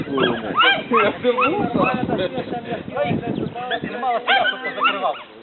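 Several dogs bark and yip in rapid, overlapping bursts, close and loud, with occasional whimpers, while people talk over them.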